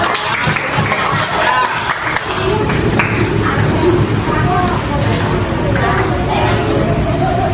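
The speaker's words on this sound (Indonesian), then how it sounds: "Beri tepuk tangan buat kita." A classroom crowd claps and applauds steadily for several seconds, with chatter and voices mixed in throughout.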